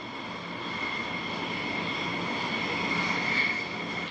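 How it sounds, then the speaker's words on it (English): The shuttle carrier aircraft carrying space shuttle Endeavour passes low over the Houston Clear Lake City area, a steady distant jet roar swelling slightly as it flies over. "live footage of the Endeavour space shuttle as it flies atop the shuttle carrier aircraft with a low flyover in the Houston Clear Lake City area"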